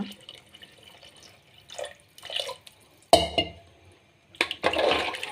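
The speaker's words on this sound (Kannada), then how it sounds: "ಇದಕ್ಕೀಗ ತೊಳೆದಿರುವ ನೀರನ್ನು ಹಾಕೋಣ ಮತ್ತು ಇನ್ನು ಸ್ವಲ್ಪ ನೀರನ್ನು ಹಾಕೋಣ." Water is poured in splashing bursts into a pot of vegetable saagu, short sloshing pours separated by pauses, close and moderately loud, with a longer gush at the end.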